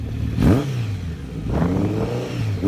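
A Honda CB1100 standard motorcycle, sold in the United States 2013–2017, revs in two loud rising bursts with a steady engine drone between them.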